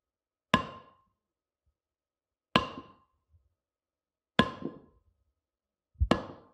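A hammer drives nails in four sharp, isolated blows about two seconds apart, each ringing briefly into silence, the last landing as a quick double strike.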